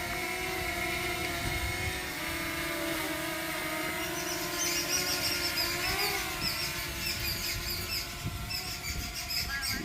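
A DJI Mini 2 drone flying outdoors gives a steady, continuous whine with high buzzing tones that shift slightly in pitch midway, heard near and alone at an even level throughout.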